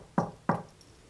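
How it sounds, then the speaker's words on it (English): Two sharp knocks on a hard surface, spaced a fraction of a second apart, close and fairly loud inside a quiet old orphanage building at night. "If I knock, will you knock back?"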